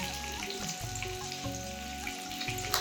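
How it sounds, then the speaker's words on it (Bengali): Shrimp fry lightly in a pan of oil for a Bengali shrimp malaikari, a soft steady sizzle with faint crackles and occasional stirring taps, quiet and close, with no voices. "প্রথমে কিন্তু আমি মাছগুলোকে ভালোভাবে ভেজে নেব"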